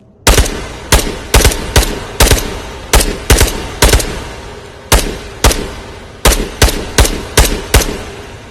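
Repeated single gunshots from a rifle in the VR shooter Ghosts of Tabor, loud and close, fired in quick pairs and singles with short pauses between them, steady rhythm, no talk.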